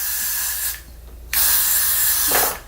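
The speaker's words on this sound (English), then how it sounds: "They applied the spray." Cold hair spray is applied to the hairline edges in two close, loud hissing bursts: a short one, a brief pause, then a longer spray that tapers off.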